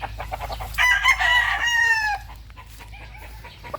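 A gamecock rooster, a prospective broodcock, lets out one loud, close crow lasting over a second, followed by quieter clucking and farmyard background.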